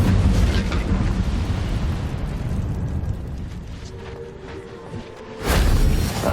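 A roaring, explosive whoosh of the Incendio fire spell in the Hogwarts Legacy game on Switch, loud and broad at the start, fading over a few seconds, then a second forceful burst near the end.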